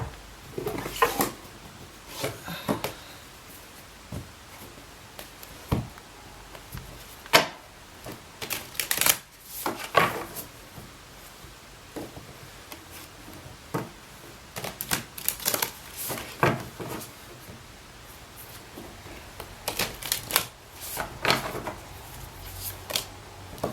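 A deck of tarot cards is shuffled by hand, coming in repeated quick riffling bursts and soft slaps with short pauses between them, close and fairly loud.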